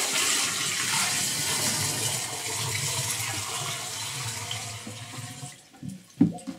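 A steady rush of water poured out of a bucket, loud and continuous, then tapering off and ending with a few thuds and splashes.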